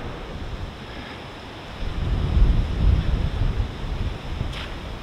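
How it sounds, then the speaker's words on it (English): Storm surf on the Lake Erie shore near Bernard Beach during a fall storm, a steady low rumble of breaking waves heard from a distance behind a hill, swelling after the first couple of seconds and mixed with wind buffeting the microphone. "You can actually hear this, the lake from here."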